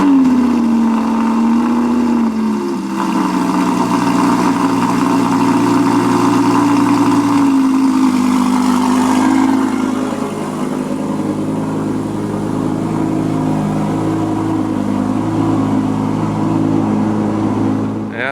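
Audi R8 in solar orange running at a steady cold-start idle, a loud, close, even engine drone that settles slightly lower partway through and holds there.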